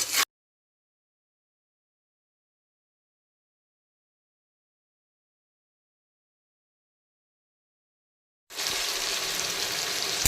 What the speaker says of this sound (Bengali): টমেটো কুচিগুলো দেওয়ার পরে টমেটো পেঁয়াজ কাঁচা লঙ্কা সবই কষিয়ে নিলাম